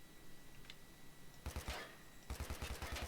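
An Uzi firing in the Minecraft video game: two quick bursts of rapid, evenly spaced shots, the second burst longer, heard fairly faint with no talk.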